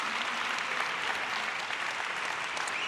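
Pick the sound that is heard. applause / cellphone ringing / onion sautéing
applause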